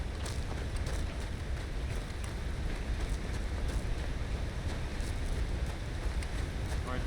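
The waterfall at Brandywine Drop in Red Dead Redemption 2 gives a steady, even rushing roar that continues unbroken throughout at a moderate distance.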